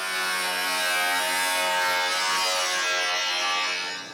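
A grinder runs across a steel body panel on a custom 1938 Cadillac, giving a loud, continuous high-pitched whine that holds steady for several seconds and eases off at the end, alone without talk.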